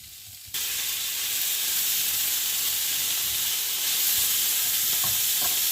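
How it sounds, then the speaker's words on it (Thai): Mushrooms and garlic fry in oil, a loud, close, continuous sizzle and hiss that flares up suddenly as the ingredients hit the pan and then keeps going steadily, with faint stirring knocks. "ใส่เห็ดแล้วก็กระเทียมลงไปผัดนะคะ"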